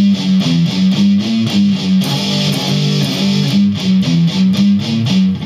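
Gritty, distorted electric guitar power chords chug slowly in a repeating rhythmic pattern, loud and close, with no talking.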